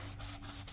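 A beveled-edge sponge sanding block is rubbed back and forth in quick strokes during paint prep, a steady, close scratchy swish with short dips between passes.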